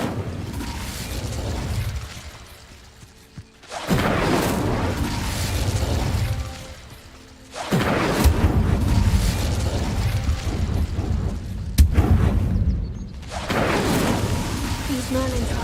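The Incendio fire spell cast in Hogwarts Legacy: loud whooshing, crackling flame bursts with booming impacts, several separate surges of roaring fire with brief quieter gaps between them.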